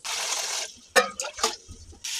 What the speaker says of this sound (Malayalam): അപ്പം നമുക്കൊരു 3 പാത്രം വെള്ളം ഒഴിക്കാം